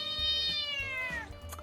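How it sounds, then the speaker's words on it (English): A real pet cat lets out one long, drawn-out meow that slides downward in pitch, close and fairly clear, with a soft low hum underneath. "Apologies, that was my real cat."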